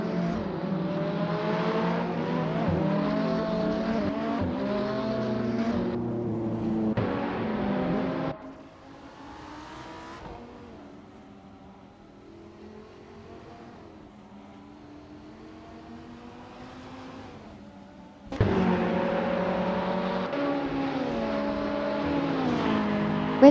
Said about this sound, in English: driving a 2012 Ferrari F12 Berlinetta, known for its powerful V12 engine and impressive performance on the track